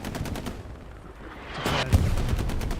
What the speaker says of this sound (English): Artillery hitting, I think it's blown someone to pieces.